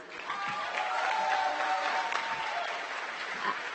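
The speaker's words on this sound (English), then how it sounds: "So a round of applause for Rue Ray." Students at a fall new student orientation applaud a student trustee taking the stage, a steady, even wash of crowd clapping that holds for several seconds.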